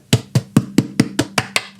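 Fingers tap on a guitar body where the binding ledge has been cut, giving eight sharp, evenly spaced knocks at close range with short hollow decays and no talking.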